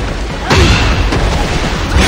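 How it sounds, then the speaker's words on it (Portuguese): A heavy, booming punch impact from a Tekken 8 fighting game trailer thuds in hard, followed by a sustained loud roaring rumble with a second swell near the end. "Caramba, o som da pancada é muito bom"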